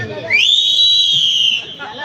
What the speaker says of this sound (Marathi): काय शिट्टी होऊ द्या का